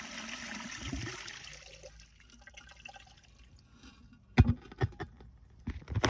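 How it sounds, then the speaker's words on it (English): An American Standard Cadet pressure-assist toilet from 2004, tilted for a dry-bowl flush, gives a loud rushing burst at the start that fades into faint dribbles, then sharp clunks and splashes near the end. "So I'm a tilt the toilet bowl over to do a dry bowl flush."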